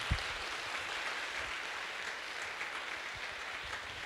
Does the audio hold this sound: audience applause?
yes